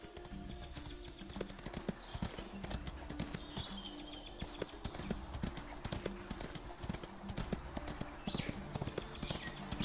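Horse hooves clip-clop steadily in the Ostwind video game, a continuous quick trotting beat at low level with faint game ambience.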